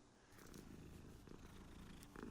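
Cat purring in Hogwarts Legacy as it is stroked, a close, steady rumbling purr that runs continuously throughout, with a slight swell near the end.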